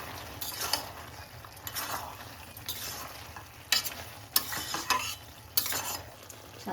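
Cooked, drained pasta being tossed and mixed in a pan or bowl for a creamy restaurant-style dish, with repeated soft scraping and clattering strokes, some sharper utensil knocks, close and moderately loud, no talking.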